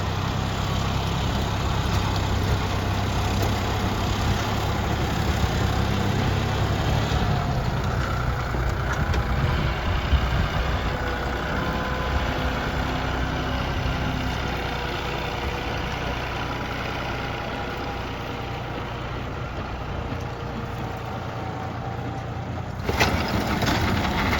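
A John Deere 5210 tractor engine idles steadily throughout, with a rotavator attached, a constant low rumbling drone with little change in level.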